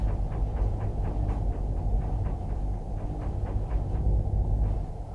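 A damaged ship's propellers still turning, heard over a submarine hydrophone in Silent Hunter 3: rhythmic, evenly spaced thumping beats repeating about four times a second over a constant deep underwater rumble, with no talking.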